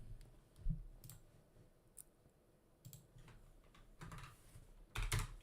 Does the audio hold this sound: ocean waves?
no